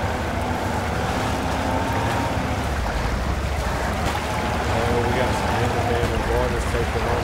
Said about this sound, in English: This is with the truck going too.